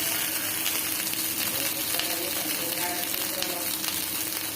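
Hot oil sizzles steadily in a pan while bombil fish fry, a dense, even hiss that runs throughout without a break.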